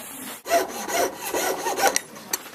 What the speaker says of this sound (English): Then I go to my saw frame, my jeweler's saw.